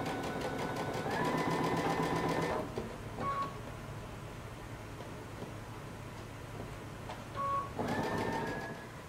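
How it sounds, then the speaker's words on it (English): Sewing machine stitching a double-folded hem close to the fabric edge, running in two close whirring bursts with a rising motor whine, separated by a quieter pause with small clicks. "And I'm gonna sew close to the edge."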